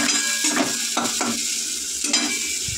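Fish mixed with chopped green chillies fries in a pan, a steady close sizzle broken by a few louder scraping stirs, with no talking.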